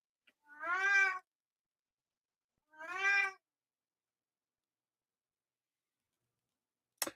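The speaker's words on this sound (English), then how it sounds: "I guess my wife's cat wanted to make an appearance on the show" A cat meows twice, each a long, clear, drawn-out cry about two seconds apart, close by in an otherwise quiet room, followed by a brief click.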